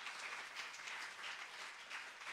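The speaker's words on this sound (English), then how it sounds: "Please give him a round of applause." An audience at a Hindu temple satsang applauds a speaker, a steady, even patter of many hands clapping that fills the whole moment at fairly low volume, with no voices over it.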